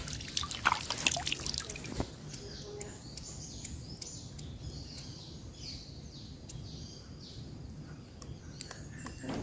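Clear spring water in a natural setting in Sumedang trickling and dripping softly, heard faint and at a distance, with birds chirping over it and some brief rustling handling noise at the start.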